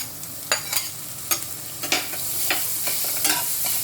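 Ginger and garlic fry in a pan with a steady broadband sizzle, broken by repeated sharp scrapes and stirs of a utensil against the metal.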